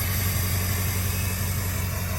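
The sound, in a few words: 2002 7.3 crew cab truck engine idling with new 4-inch exhaust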